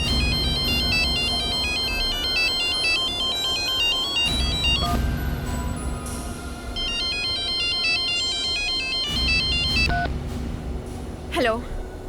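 A mobile phone ringtone plays loudly in a repeating electronic melody, pausing briefly between cycles before starting again, with a voice heard near the end.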